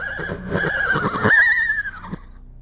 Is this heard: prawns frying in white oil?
no